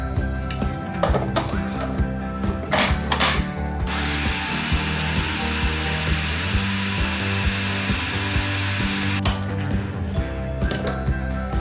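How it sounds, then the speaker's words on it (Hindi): An electric grinder minces mutton with spices for reshmi kabab. Short whirring bursts come first, then a loud, steady grinding roar runs for several seconds before stopping. "साथ ही हम इसको एक दफ़ा पीस लेंगे।"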